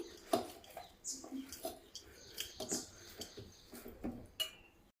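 Aloo paratha dough kneaded and mixed with oil in a bowl: soft irregular squelches, slaps and light clinks close by, quiet and uneven in rhythm.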